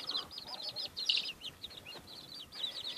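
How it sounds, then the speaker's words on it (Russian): Roosters fighting among calm hens and muscovy ducks in a poultry yard, with repeated high squawks and clucks in short bursts over a noisy background. "вон дерутся петухи"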